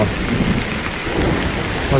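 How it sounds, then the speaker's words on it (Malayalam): Heavy rain pours down steadily in a forest in a dense, continuous roar, loud and close, with no voices. "ഭയങ്കര മഴ കേട്ടോ ഇവിടെ ഭയങ്കര മഴയാ"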